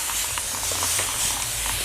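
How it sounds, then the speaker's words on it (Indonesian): A spray bottle mists water onto hair before a low fade haircut, a steady close hiss of spraying that runs through the whole moment with no talk. "Oke, jadi pertama kita semprot terlebih dahulu"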